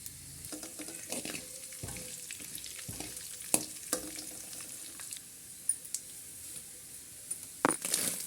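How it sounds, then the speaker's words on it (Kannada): Cumin and mustard seeds sizzle and pop in hot oil for a spiced Karnataka churumuri, a steady frying hiss broken by sharp crackles and a few utensil clinks, with no voices. "ಇವಾಗ ಸ್ವಲ್ಪ ಎಣ್ಣೆ ಹಾಕ್ಕೊಳ್ಳಿ ನೆಕ್ಸ್ಟು ಜೀರಿಗೆ ಸಾಸಿವೆ ಹಾಕ್ಕೊಳ್ಳಿ"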